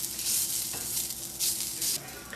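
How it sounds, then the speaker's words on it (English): Onions for a cheesesteak sizzle steadily in a pan with a bright, hissing fry, and bursts of scraping swell up now and then as they are flipped and stirred, close and continuous with no talk. "be sure to flip your onions every once in a while"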